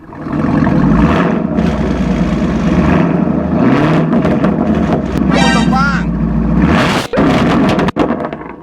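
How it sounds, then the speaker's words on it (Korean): Chevrolet Camaro SS V8 with an MBRP aftermarket exhaust, parked and blipped at idle: a loud, steady deep burble with rising revs, short throttle swells and a few sharp cutoffs near the end. "정차 상태에서 그냥 RPM만 살짝살짝 이렇게 띄어서 배기음을 한번 들어볼 거예요"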